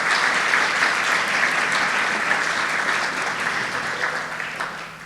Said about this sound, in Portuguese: nós vamos aplaudir ao Senhor por esse testemunho